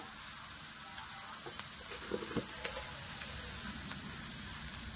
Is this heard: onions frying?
yes